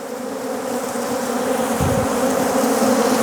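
Honeybees buzz loudly around an opened hive during a late-March frame inspection, a dense, unbroken droning hum close by that swells slightly as it goes on.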